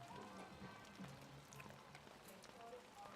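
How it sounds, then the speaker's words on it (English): Rain falls steadily during a high school football game, West Brook versus Beaumont United, a faint continuous patter of drops on surfaces beneath quiet background commotion. "That rain sound therapeutic, Marco."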